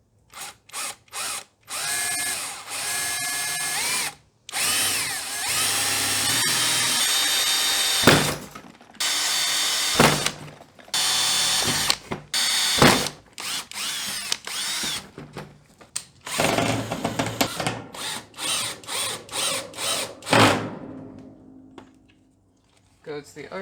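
A power drill whirs in repeated bursts, starting and stopping with short pauses between, loud and close, with some clattering of tools and brief voices.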